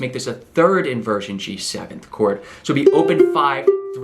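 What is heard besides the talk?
No everyday noises stand out.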